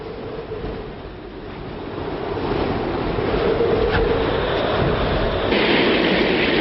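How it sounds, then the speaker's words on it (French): A heavy storm batters the North Sea coast, with waves of 10 to 12 metres and gusts near 150 km/h. Continuous roaring surf and wind build steadily louder, with no voices. "Voici la première grosse tempête depuis l'été. Des vagues de 10 à 12 mètres."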